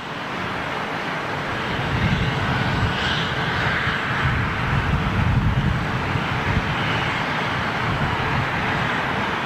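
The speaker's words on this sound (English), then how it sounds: "two 747s in a row going out to departures" Boeing 747 jet taxiing out to departures at London Heathrow, a heavy sustained engine rumble and whine that rises after a couple of seconds and stays fairly loud and close, with no talk.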